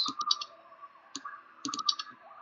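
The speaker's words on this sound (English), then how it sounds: "I'm still clicking on it like it matters." Repeated clicking while playing a video game, in two quick bursts of several close, light clicks each, heard alone over a faint steady hum.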